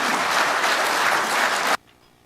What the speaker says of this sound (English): give a big round of applause for Mike.